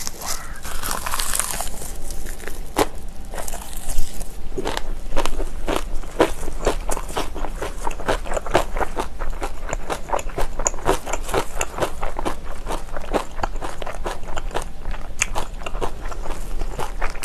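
Kimchi gets chewed near the mic in a steady run of wet, crunchy bites and mouth noises that repeat rapidly over a long stretch, with faint background rustling.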